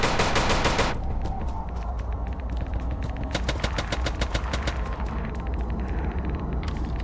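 Muffled gunfire from the Misery video game: a dense burst of rapid automatic shots opens the clip, followed by steady, sharp shots repeating in quick runs over a low rumbling background.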